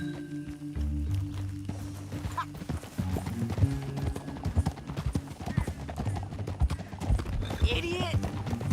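Rapid clip-clop of horse hooves at a gallop in the video game Red Dead Redemption 2, close and rhythmic, with a horse whinnying and people talking over it amid background music.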